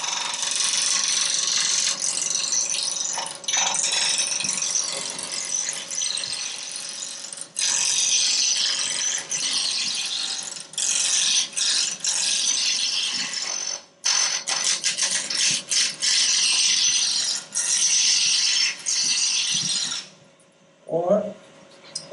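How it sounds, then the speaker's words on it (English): A roughing gouge cuts wood spinning on a lathe, a loud continuous scraping rasp that breaks off briefly a few times, ending with a short pause and light knocks. "take this down to round. You can do that with a roughing gouge."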